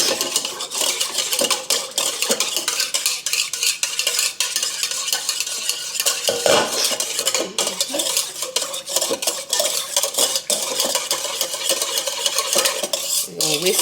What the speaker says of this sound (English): We're gonna whisk it up real good